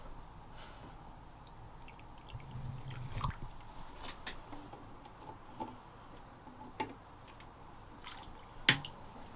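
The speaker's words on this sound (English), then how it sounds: "we're just going to fill up the water bowls" Water trickles into small bowls inside a bioactive crested gecko enclosure, heard as faint, irregular drips and soft ticks, quiet and close, with a few sharper plinks near the end.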